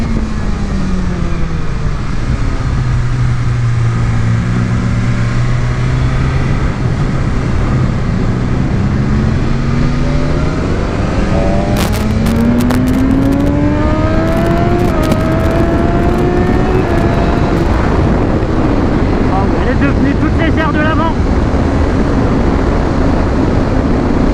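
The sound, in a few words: BMW S1000RR motorcycle riding on a race circuit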